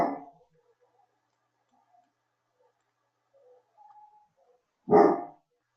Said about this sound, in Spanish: Callen ese perro.